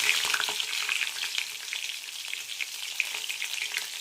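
Crushed garlic and small-cut ginger frying in hot oil, a steady moderate crackle and spatter that rises in the first half and continues evenly, with no voices.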